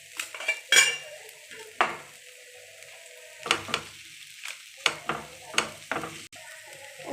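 Green pea filling for kochuri frying on high flame in a pan, with a spatula repeatedly clanking and scraping against the metal over a steady background sizzle.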